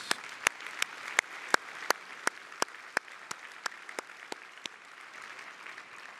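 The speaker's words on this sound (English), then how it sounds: "let's give another round of applause to the folks from all of these amazing winners" Sparse clapping from a small conference audience for award winners, individual claps standing out in a loose irregular rhythm that gradually thins and fades.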